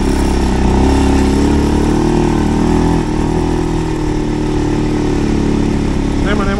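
A 2024 Segway Snarler AT6L ATV engine runs steadily in a forest, a constant mid-pitched drone filling the clip while a person talks over it.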